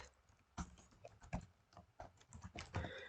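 Quiet keyboard typing in short irregular bursts of clicks and taps, close but soft, with no voice over it.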